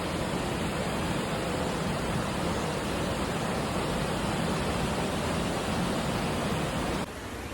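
Lamplok waterfall in a Thai jungle in Trang, a steady, loud broadband rush of falling water that holds unbroken throughout, close and dense, dropping slightly in level near the end.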